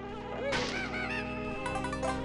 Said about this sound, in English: Bees! No! Good thing they follow you only for a short time.